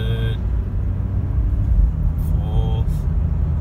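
Car with an automatic transmission and torque converter accelerating through its gears, a steady low engine rumble rising and settling as it shifts, heard from inside the cabin while someone talks.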